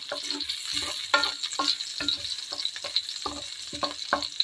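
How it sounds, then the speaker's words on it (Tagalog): Sautéing in a pan for a Filipino home recipe, a steady crackling sizzle broken by regular scraping stirs, close and fairly loud, with no talking. "Ngayon, gigisa ko yung sekado."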